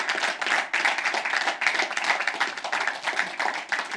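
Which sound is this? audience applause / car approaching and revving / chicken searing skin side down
audience applause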